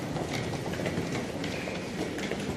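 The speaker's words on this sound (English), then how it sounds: "I'd like to see this train out before we go. Class 345." A Class 345 train rumbles past at a London station, a steady rolling roar with rhythmic wheel clatter, moderately distant and continuous.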